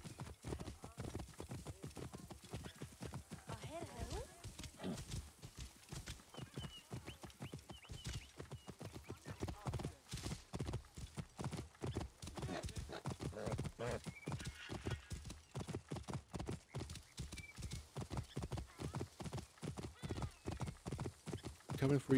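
Horse hooves gallop in steady rapid clip-clop in the video game Assassin's Creed Origins, riding through ancient Thebes, with an occasional whinny and voices talking over the continuous hoofbeats.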